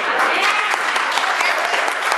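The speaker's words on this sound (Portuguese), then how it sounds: "Vamos aplaudir Jesus, querido." Church congregation applauding together during a worship service, a dense, loud and steady wash of clapping from many people, unbroken for a couple of seconds.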